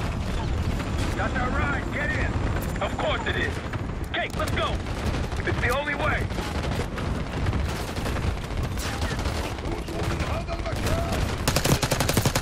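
Call of Duty: Black Ops 6 combat with dense continuous gunfire and explosions under a deep rumbling, mechanical roar of approaching helicopters, loud and chaotic throughout, with brief radio-like voices talking.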